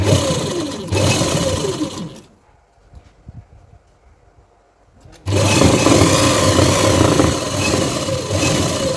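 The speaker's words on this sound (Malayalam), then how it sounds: "ആ റേഞ്ച് തയ്യൽ തുമ്പിട്ടുകൊണ്ട് തയ്ക്കുക" A sewing machine stitches a saree blouse in two loud, close runs. The first lasts about two seconds, then comes a three-second pause, and the machine starts up again for a longer burst.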